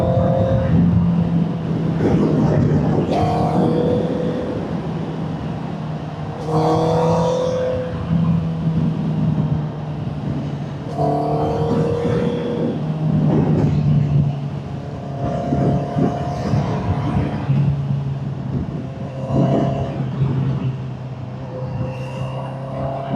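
A 2023 Honda CBR650R motorcycle with a Vandemon exhaust accelerates hard through the gears, giving loud, close engine revs that climb and then drop at each shift in a repeating pattern, with faint voices now and then.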